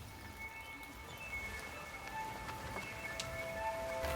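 Rain falls outdoors in the Pacific Northwest, a faint, steady patter of drops with scattered sharper taps, heard alone without voices.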